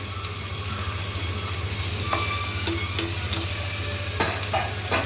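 Green chillies sauté in a pan for egg biryani with a continuous low sizzle, punctuated by a few sharp scraping and clinking stirs of a utensil, close and fairly quiet, with no voices.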